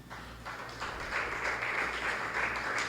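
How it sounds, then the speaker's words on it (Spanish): A church congregation claps for the Lord during a sermon, a modest burst of applause that swells after the first second and continues evenly over a low background hum. "Dele un aplauso al Señor, hermano."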